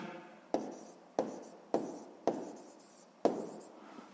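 A pen writes down an answer to a sixth-grade math exercise, five quick scratching strokes spaced about half a second apart, each starting sharply and fading, close and quiet in an otherwise silent room.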